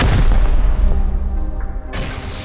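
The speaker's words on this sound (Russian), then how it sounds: "И когда он меня взорвал" A heavy explosion booms in the video game Rust, a loud low blast that rumbles and fades, with a second burst of noise near the end.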